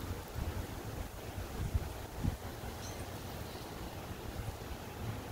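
Strong high winds roar in a steady, close rush with gusty swells and buffeting against the microphone, continuous for several seconds with no one speaking.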